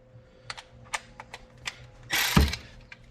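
A 6mm stubby ratcheting wrench tightening bolts on a Yamaha YXZ CrawlBox install, giving a series of sharp, close ratchet clicks in an uneven rhythm, followed by a louder burst of mechanical rasping near the end, with no talk.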